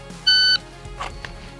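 A shot timer gives a single sharp electronic beep at the start of a pistol drill with a police trade-in Glock, followed by quiet, faint handling sounds.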